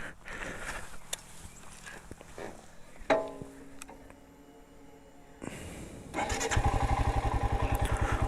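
A Royal Enfield Scram 411 motorcycle goes through a few clicks and handling noises, then the engine fires and settles into a loud, close, throbbing single-cylinder idle with a steady pulsing beat.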